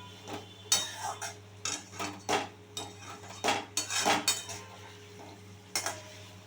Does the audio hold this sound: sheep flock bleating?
no